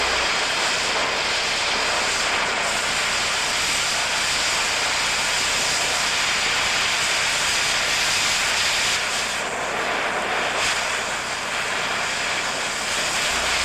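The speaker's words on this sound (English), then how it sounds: "Back the torch away and ease off the cutting jet lever to slow down the cutting jet." An oxy-fuel cutting torch jet slices through steel pipe with a loud, continuous roaring hiss that holds steady throughout, swelling slightly in places.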